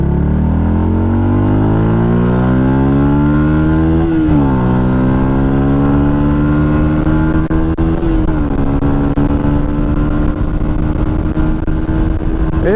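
A Yamaha MT 125 motorcycle fitted with a K&N air filter pulls away in second gear and accelerates hard, its engine note climbing steadily with two brief dips at gear changes, loud and close throughout with no talk.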